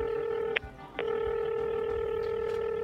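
A telephone is dialed, with a steady dial tone broken by two brief keypad tones that are clear and close, and no voices.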